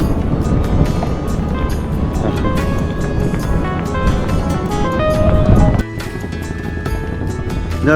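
A river trawler's engine drones steadily and loudly close by in the open air, a continuous rumble that drops slightly near the end, with people talking over it.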